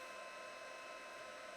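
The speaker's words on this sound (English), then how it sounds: "So you do need a heat tool to activate this product." A hot-air heat tool blows steadily to puff up Snowfall Accents puff paint on a card, producing a continuous close whooshing hiss with no breaks and no talking.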